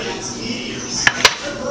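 A metal double jigger and stir spoon clink together twice in quick succession, two bright short metallic taps over a quiet room background.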